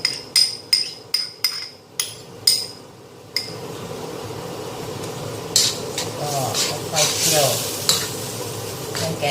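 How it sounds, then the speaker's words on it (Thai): A utensil knocks repeatedly on the pan in a quick burst, then homemade Thai green curry paste hisses and sizzles as it is stir-fried, with scraping stirs over a steady close frying sound. "ผัดให้เครื่องแกงแตกมันนะคะ"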